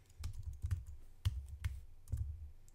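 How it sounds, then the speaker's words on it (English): Keys tap out a password on a computer keyboard at a login screen, a close run of uneven clicks and soft thumps with brief pauses, no voices. "It wants me to type in my password."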